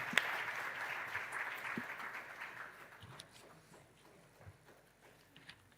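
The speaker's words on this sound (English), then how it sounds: "please welcome him with a huge round of applause" Audience applause welcoming a minister to the stage at an awards ceremony in a hall, a full round of clapping that starts strong and gradually thins and fades, with a few scattered claps near the end.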